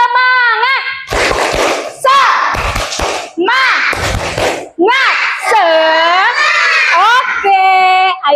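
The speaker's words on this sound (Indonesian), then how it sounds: "Agar lebih semangat, beri tepuk semangat dulu." Children in a classroom doing a rhythmic spirit clap, short bursts of group clapping in a set pattern alternating with chanted voices, loud and close.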